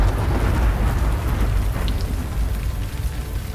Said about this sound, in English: Only distant thunder breaks the silence.